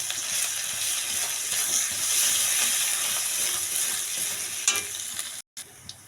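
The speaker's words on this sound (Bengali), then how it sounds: "দেখো, এখানে পেঁয়াজ আর আদাটা ভাজা হয়ে গেছে।" Onion and ginger with a dried red chilli fry in a pan for a pumpkin and Malabar spinach dish, giving a steady, close sizzle with faint stirring throughout and no talking.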